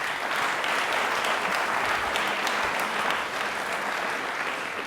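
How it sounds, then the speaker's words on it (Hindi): A studio audience at a televised quiz show in Jaipur claps loudly and continuously, a dense, even burst of applause with no voices over it. "तालियां हो जाए जोरदार प्लीज।"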